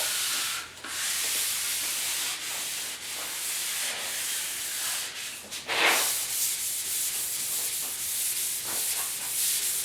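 Hand sanding on the bed of a 1972 Ford 4x4 short box truck during paint prep, a loud, close, continuous abrasive rubbing with steady back-and-forth strokes and brief pauses.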